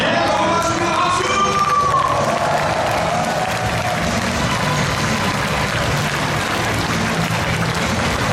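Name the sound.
crowd applause after a countdown at a rally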